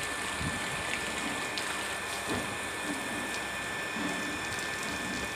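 Heavy rain pours down in a steady, even hiss that continues unbroken from start to end, moderately loud and without any talking over it.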